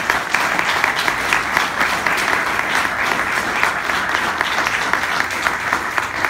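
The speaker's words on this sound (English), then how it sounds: "So please join me in giving Hugh Dunn a big round of applause." An audience at a Blue Economy Corridor press conference at UMass Dartmouth gives a round of applause, a dense, sustained wash of clapping that holds steady and loud throughout with no talking.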